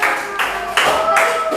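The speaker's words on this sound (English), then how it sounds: "give applause to all of you" A classroom of students claps together in a short, dense burst of applause that swells in repeated waves, with no talk over it.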